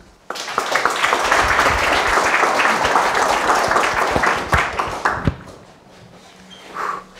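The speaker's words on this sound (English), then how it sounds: "please give a warm round of applause to Kristjan Korjus." Audience applause greets a guest speaker at a talk, a dense burst of clapping that starts abruptly, holds steady and loud for about five seconds, then fades out into quiet room noise.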